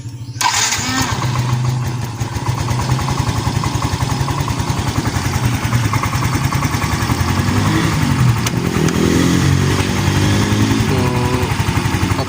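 A Yamaha Mio i125 scooter engine, one with a misfiring, sputtering fault, starts up and then idles loud and close with a steady rapid throb, while a voice speaks at times.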